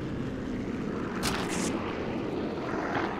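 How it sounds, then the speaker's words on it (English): A steady, droning aircraft engine hums overhead in the video game Sniper 4, a continuous broad roar at even loudness with a brief brighter swell partway through. "Yep, aircraft are still here."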